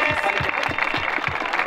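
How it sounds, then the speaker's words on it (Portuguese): Crowd at a rap battle clapping in a steady rhythmic beat, roughly one clap every fifth of a second, loud and close with crowd noise around it. "Aquelas palmas, certo?"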